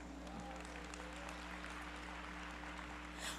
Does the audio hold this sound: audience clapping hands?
yes